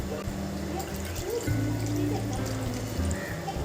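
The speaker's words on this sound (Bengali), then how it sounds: "আমি এই ছোট মগটার 2 মগ জল দিচ্ছি আলু, সজনে ডাঁটা আর ডাল সেদ্ধ হবার জন্য" Two mugfuls of water trickle from a small mug into a cooking pot holding potatoes, drumsticks and moong dal, a steady close pour with a low kitchen hum beneath.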